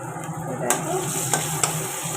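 Chillies and mustard seeds fry in hot oil in a wok, giving a steady bright sizzle broken by a few sharp clacks of a stirring spoon against the pan.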